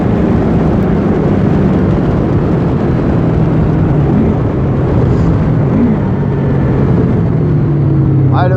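A Honda VFR800X Crossrunner motorcycle engine droning loudly and continuously on the road, blended with heavy wind rush, holding a fairly even pitch with only a slight rise near the end.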